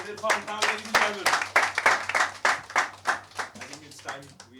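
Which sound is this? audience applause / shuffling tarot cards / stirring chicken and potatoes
audience applause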